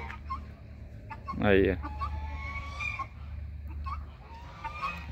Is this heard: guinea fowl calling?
yes